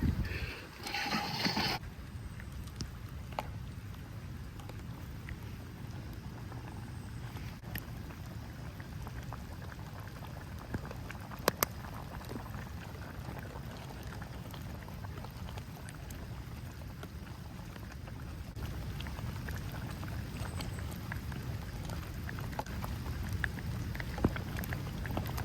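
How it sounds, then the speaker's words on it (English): Heavy rain drums steadily on the roof of a van during a drive south away from snow, a dense continuous patter that stays fairly loud and even throughout with no talking. "The rain is starting to come down pretty hard."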